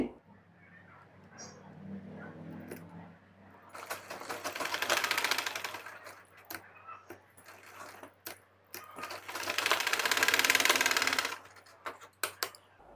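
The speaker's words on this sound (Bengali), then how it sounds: "এখন এই রাবারটাকে সেলাই করে দিচ্ছি" A sewing machine stitches elastic onto a trouser pajama in two loud, rapid whirring runs of a few seconds each, separated by quieter pauses with soft handling clicks.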